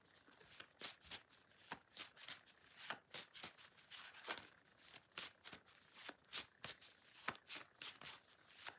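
Tarot cards being shuffled in quick riffling bursts, a steady run of crisp papery flicks and slaps repeating close up with no voices.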